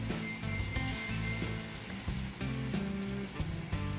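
Meat browns in a hot pan for carne guisada, a steady close sizzle and crackle holding through the whole stretch without any talking.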